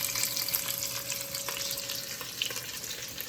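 Garlic and chorizo sizzle and crackle steadily in a hot pan. The frying is close and continuous, with light stirring and no voices.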